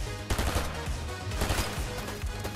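DMR rifle fire in Fortnite, a run of sharp, loud, closely spaced shots with a few slightly irregular gaps, continuing for a couple of seconds, close and without any talking.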